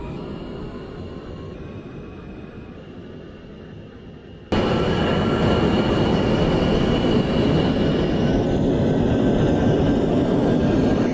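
A subway train on the J line bound for Coney Island pulls away from a station in the OpenBVE train simulator: a steady rumble that jumps louder midway and continues as a broad, sustained rolling roar with faint rail squeal.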